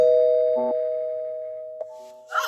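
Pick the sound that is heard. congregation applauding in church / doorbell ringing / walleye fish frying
doorbell ringing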